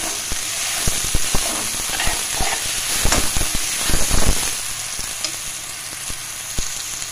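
Chopped tomatoes and green chilies sizzle in a hot pan for potato tahari, a steady frying hiss broken by scattered pops and stirring clatter.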